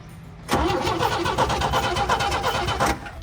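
An old International Scout engine cranks steadily on the starter, a loud, continuous rhythmic churn lasting about two and a half seconds without catching, then cutting off.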